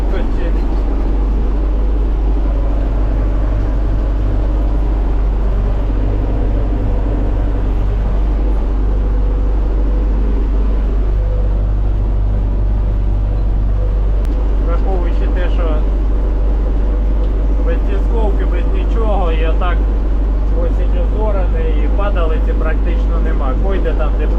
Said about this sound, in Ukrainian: на ручному газу їжджу, бо буває трактор підпригує по чуть-чуть